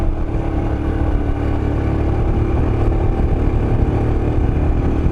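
A Royal Enfield Himalayan 411 engine pulls uphill in second gear, a loud steady drone held high in the revs with no letup.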